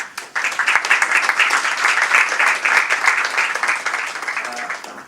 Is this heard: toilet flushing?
no